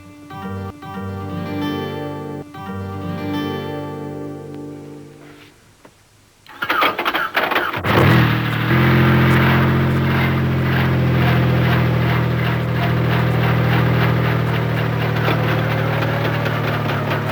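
A helicopter used for mustering cattle in rugged Australian outback country, its engine starting up after a quieter whirring stretch, then settling into a loud, steady roar with rotor pulsing that stays close and continuous.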